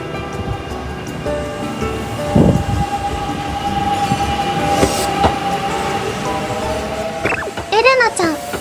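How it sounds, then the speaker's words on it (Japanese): Kintetsu Yamada Line train arriving at a station, a rumbling approach with a steady tone and squeal near the platform, brief higher chirps near the end, moderately loud with no voices. "ちょうど近鉄山田線の電車がやってきました。"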